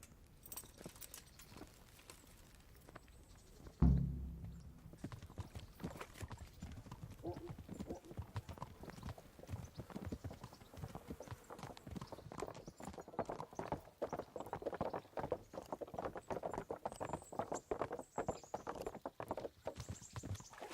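Horse hooves clip-clop steadily in the medieval role-playing game Kingdom Come: Deliverance, starting with a loud thump and continuing as a quick, even rhythm at close range, with faint talk mixed in.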